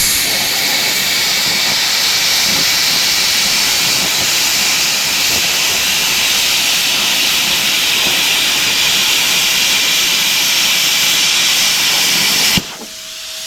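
Arccaptain CUT50 plasma cutter on 220 volt mode slicing quarter-inch steel, a loud, steady roaring hiss that holds for about twelve seconds, then cuts off abruptly, leaving a quieter hum.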